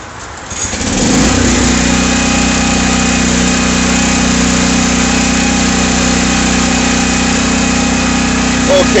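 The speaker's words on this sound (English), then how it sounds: "I'm going to turn on a generator here in a second, so it's going to get very noisy." A portable power generator kicks on after a second of quiet, then roars in a loud, steady, close-up drone with a constant low hum that holds to the end.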